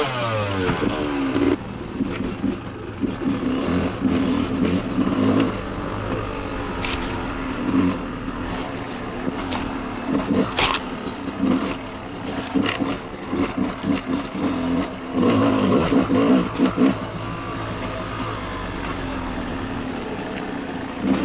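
A motorcycle ridden over rocky ground, its engine revving and droning up close while the underside scrapes and knocks against rocks in several loud, rough bursts.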